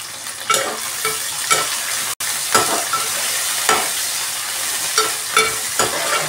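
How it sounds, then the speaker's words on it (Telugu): Bottle gourd curry with onion and green chilli sizzling in a pan while being stirred, rhythmic scraping strokes recurring about every half second over a loud continuous fry. "కలుపుకోవాలి, మంచిగా కలుపుకోవాలి."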